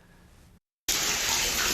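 Water pouring inside an apartment from a faulty fire sprinkler system, the ceiling raining down indoors: a steady hiss of running water, a brief silent gap, then a loud, dense, continuous gushing roar.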